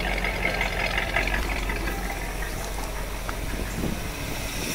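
A 1956 Cadillac Sedan DeVille V8 idles steadily after an oil change and fuel line hookup, a constant close engine drone with faint ticking, and no one speaking.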